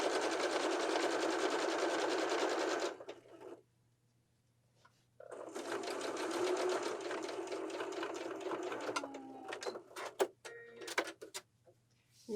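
A sewing machine stitches bias welt piping onto a pillow in two steady whirring runs separated by a short silent pause, then ends with a few scattered clicks and handling noises.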